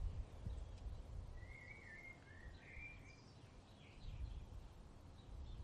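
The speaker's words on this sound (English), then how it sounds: "The sound of birds chirping nearby." Birds chirp in a forest, with a faint, brief warbling call partway through and a few thin, distant tweets over a soft, steady ambient hush.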